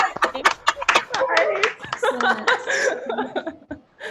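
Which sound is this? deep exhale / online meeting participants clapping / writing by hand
online meeting participants clapping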